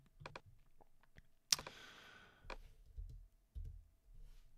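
A handful of sharp, quiet clicks of computer keyboard shortcut keys being pressed in Sibelius notation software, spaced irregularly, with one louder clack in the middle and soft thumps between.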